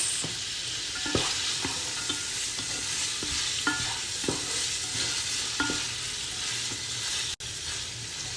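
Peas frying in a pan for fried rice, a steady close sizzle with regular scraping stirs of a utensil against the pan and one sharp knock near the end, with no talk.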